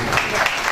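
Brief burst of audience applause at a poetry mushaira in Layyah, Pakistan, a dense wash of clapping lasting under a second.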